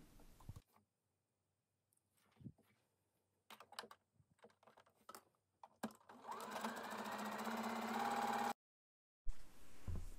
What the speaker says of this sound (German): Alle Nähte aufeinander steppen nacheinander und dann geht's weiter.